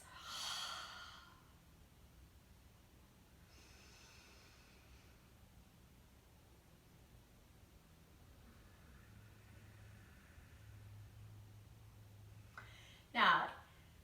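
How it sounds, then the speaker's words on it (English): Deep yoga exhales breathed out audibly during a guided session, a soft breathy gust at the start and a sharper, louder blow near the end, separated by quiet faint breaths and low room hum. "Exhale, release. Blow out all that excess oxygen, energy."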